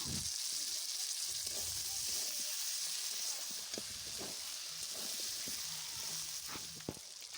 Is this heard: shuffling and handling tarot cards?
no